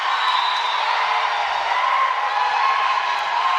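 A crowd at a high school volleyball game cheers and whoops in a steady, loud roar that holds unbroken from start to finish.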